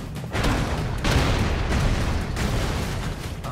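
Grenade blasts in the Broforce video game: a series of loud, booming explosions layered over dense, continuous crackling game action, with bursts near the start, around one second and again later.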